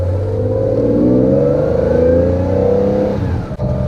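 A Porsche 911 2.8 RSR engine drones loudly and steadily as it drives on the road, its pitch rising under acceleration before briefly dropping near the end.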